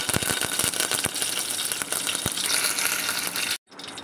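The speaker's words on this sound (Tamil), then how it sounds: "இப்போ நம்ம ஒரு 2 பட்டை மிளகா போடுறோம். ஒரு கத்து கருவேப்பிலை அதோட தாளிக்கிறதுக்கு போட்டுக்கிறலாம்." Mustard seeds, urad dal, dried red chillies and curry leaves sizzle and pop in hot oil as a tempering for coconut milk rasam, a dense, steady frying hiss with crackles that cuts off abruptly near the end.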